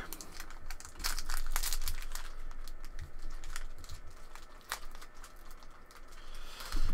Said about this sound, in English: If I can get the pack open.